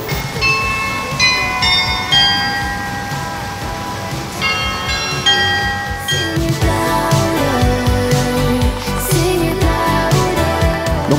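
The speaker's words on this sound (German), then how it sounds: "dann gibt es auch in Nienburg ein grandioses Glockenspiel zu hören" The town glockenspiel in Nienburg rings out a melody of bright bell tones, followed by heavier overlapping chimes, loud and resonant in the open air.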